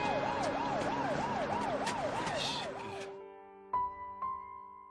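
Ambulance siren wailing in a traffic jam, a loud rising and falling cycle that repeats steadily for about three seconds, then cuts off and leaves softer tonal music with two short accented hits.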